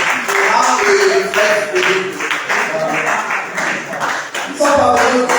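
Audience applauding speakers at a French-language philosophy debate on truth and morality, a steady wash of clapping running the whole time under a voice announcing names.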